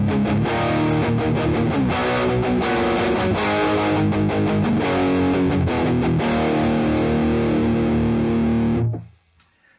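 A heavily distorted electric guitar through a 1991 Funny Little Boxes distortion pedal with both gain circuits at maximum plays thick, saturated chords with a noisy, fuzzy edge, loud and continuous, then cuts off abruptly near the end.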